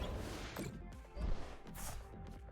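Clay Blast attack effect in a Pokemon TCG video game: a couple of sharp crashing impacts over a low rumbling bed, with the loudest hit just past the one-second mark.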